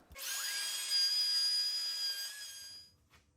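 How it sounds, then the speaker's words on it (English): A router cuts a groove in wooden bed frame pieces with a loud, high steady whine that spins up quickly, holds for about two and a half seconds and then winds down, with no talk. "And we'll cut that groove out the exact same way with the router as we did on the support beams."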